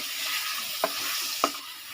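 Ground spices with salt, coriander powder, garam masala and black pepper frying in a pan for Punjabi pulao, under a steady close sizzle broken by two sharp scraping stirs of the spoon.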